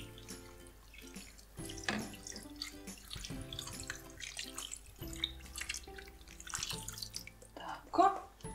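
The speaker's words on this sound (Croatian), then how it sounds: "Litra vode. Sve skupa zaliti." About a liter of plain water is poured into a pan for one-pan pasta, a splashing pour heard alongside background music, with a louder gush near the end.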